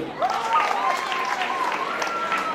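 An audience applauds performers at a cultural night event, with sustained clapping from a crowd. A voice and a tonal sound carry over the clapping.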